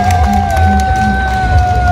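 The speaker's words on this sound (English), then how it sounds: "Let's clap for our umukuka." Crowd at an Imbalu Day cultural ceremony in Mutoto cheering and clapping for cultural leaders, with steady tonal music or whistling and some voices mixed over a continuous, fairly loud hubbub.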